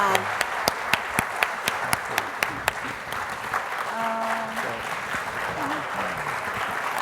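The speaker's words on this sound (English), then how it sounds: "please, everyone, join me in a round of applause for Ann and Ron" A dense round of audience applause at an awards ceremony, steady and full throughout, with several louder individual claps near the start and a voice briefly heard under it midway.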